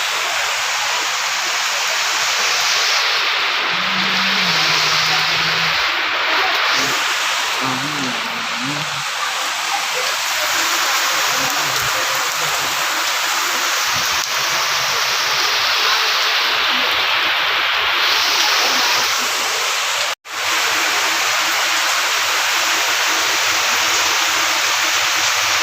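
Heavy rain and strong wind outdoors, a dense, steady roar of downpour lasting the whole stretch, loud and close, with gusts swelling and easing.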